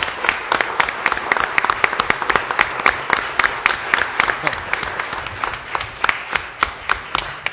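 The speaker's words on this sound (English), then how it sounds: "just a round of applause for our special guest" A round of applause at a town council meeting, with the room clapping steadily for a special guest, many hands close and loud with sharp individual claps standing out across the whole stretch.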